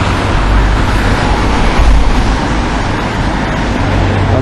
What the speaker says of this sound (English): And there wasn't this much traffic nowhere near.